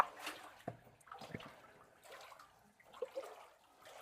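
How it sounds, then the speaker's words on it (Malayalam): Water flows inside Muni cave in Kottayam, heard as a faint, uneven wash with soft splashy bursts that come and go in a quiet, enclosed space. "വെള്ളം കേട്ടോ."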